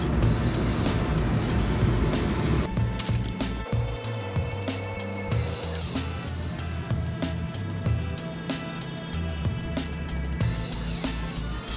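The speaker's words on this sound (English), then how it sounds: "And now I'll start the spraying process." Steady hissing spray of conductive ink onto a substrate runs throughout, loud and continuous, with a mechanical hum and rattling underneath; no voices.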